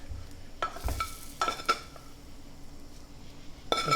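Garlic and ginger sautéing in a pan, heard as soft sizzling broken by a few sharp clinks and scrapes of a utensil against the pan, close and fairly quiet.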